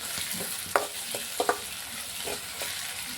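Cumin seeds and curry leaves fry in hot oil with a soft, steady sizzle, while a few sharp scrapes and clinks of a stirring spoon cut through the frying for egg curry.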